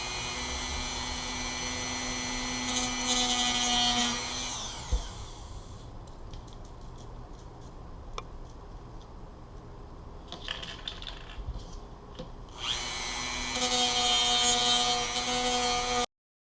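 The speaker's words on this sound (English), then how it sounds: "Just grind that down." An angle grinder works down a metal pipe cap, running loud and steady for about four seconds, dropping to quieter scraping and clinks, then revving back up near the end.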